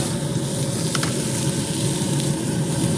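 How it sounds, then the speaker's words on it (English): Steaks sear on a Z Grills pellet grill with a loud, steady, close sizzle that holds unbroken throughout, with no talking over it. "And then we're just going to sear steaks"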